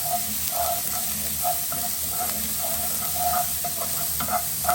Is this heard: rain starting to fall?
no